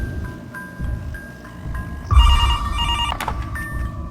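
In a horror video game, a telephone bell rings loudly and insistently over a low background drone, the shrill ringing starting about halfway through and carrying on to the end.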